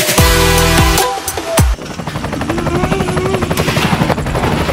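A person imitates a helicopter with their voice: a loud, close, rapid, throbbing rotor pulse that continues steadily after a brief burst of louder noise at the start.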